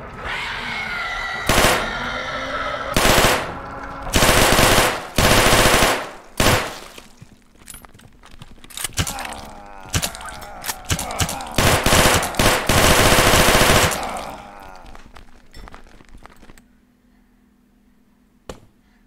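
Rapid machine-gun fire and gunshots from the Karantiin video game, loud repeated bursts over most of the clip with brief pauses between them, fading to near silence at the end.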